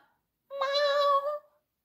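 A single clear cat meow, harmonic and mid-length, sounds alone and close, with quiet before and after.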